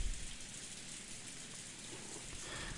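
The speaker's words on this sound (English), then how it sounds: "the endless rain continued to fall" Steady rainfall from the Umineko visual novel game, an even, continuous hiss of falling rain at a fairly low level, with no voices.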